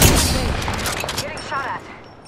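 In the Apex Legends video game, a dense burst of gunfire rattles close and loud, then trails into a quieter mix of game effects and chatter.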